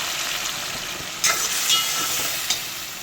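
Water goes into a pan of sev tomato curry as it fries with red chilli powder, setting off a steady broadband sizzle with a few sharp bursts of louder hissing and spatter near the middle and end.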